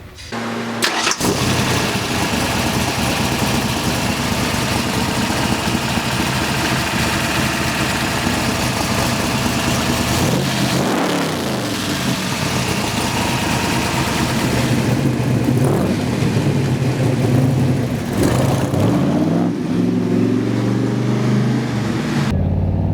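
A 1965 Shelby Cobra replica, a Superformance MKIII, rumbles loudly and continuously, its engine revving up and down with deep exhaust growl throughout, no voices over it.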